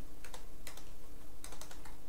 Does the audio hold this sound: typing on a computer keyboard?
yes